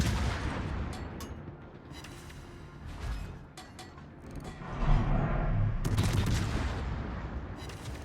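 Naval gunfire from an American heavy cruiser, the Des Moines, in a warship video game, heavy booms and rumbling salvos with crackling bursts, near and loud, swelling toward the end without talk.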